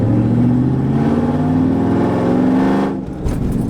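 A straight-piped, cammed Mustang with nitrous revs hard and close, a loud, raspy, sustained engine drone that steps in pitch, then drops off sharply and picks back up.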